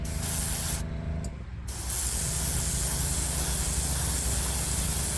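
Aerosol spray paint applied to a custom toy model in bursts: a loud, bright hiss, a short pause, then a long continuous spray, with no talking.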